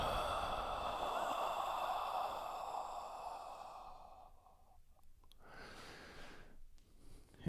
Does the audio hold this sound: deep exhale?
yes